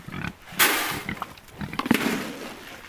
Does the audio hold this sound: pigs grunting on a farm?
yes